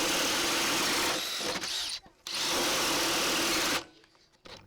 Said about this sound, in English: I'm not putting a lot of pressure down on this drill